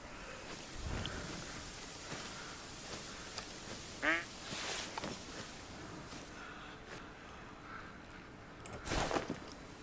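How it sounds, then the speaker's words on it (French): Ducks quack during an outdoor duck hunt, a few short calls rising above a steady hiss of rain, with a faint rumble of thunder underneath. "Sont contents les canards, je les laisse."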